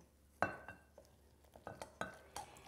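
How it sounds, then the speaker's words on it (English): A fork scrapes and clinks against a bowl while milk is stirred into biscuit dough, a series of sharp, irregular taps and scrapes at close range with quiet pauses between them. "Now, I use a fork to stir the milk in, and you want to work quickly."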